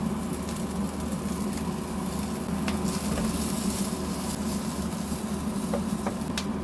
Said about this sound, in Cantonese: 我哋就放埋啲蒜蓉落去。